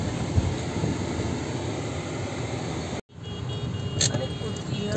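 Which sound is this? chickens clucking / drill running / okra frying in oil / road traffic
road traffic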